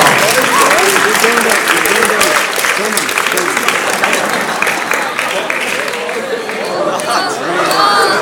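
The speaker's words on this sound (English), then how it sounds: "Another round of applause if you would, please, ladies and gentlemen." Audience at a hypnotism show breaks into loud, sustained applause with cheering and crowd chatter mixed in, a dense wash of clapping that holds steady throughout.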